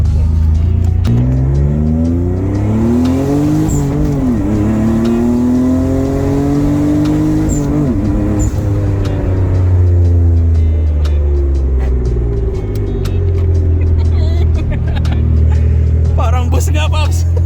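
A 1992 Mitsubishi GTO twin turbo engine revs loudly and close by, with rising and falling harmonic sweeps as the revs climb and drop over a deep rumble. Voices talk over it.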